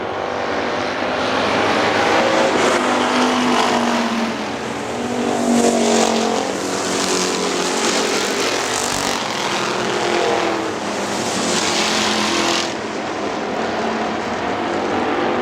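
Factory stock race cars roar around Hartford Speedway Park during a feature race, loud engine noise swelling and fading as cars pass, continuous throughout.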